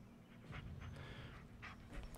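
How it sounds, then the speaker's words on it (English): A dog panting in a Blair Witch horror video game: quick, soft, rhythmic breaths with faint whimpery tones, quiet and close, no speech. "This is Bullet, your right-hand dog."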